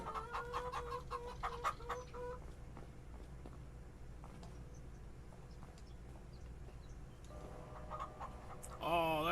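Chickens cluck in the Farming Simulator 25 video game, several quick rhythmic clucks at the start and again near the end, moderately close over a low steady farm ambience with some quiet talk.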